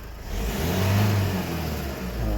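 Diesel engine of a Renault Megane 3 with the 1.5 dCi K9K and Delphi common-rail injectors revving close by, a steady low rumble rising and holding through a brief throttle blip.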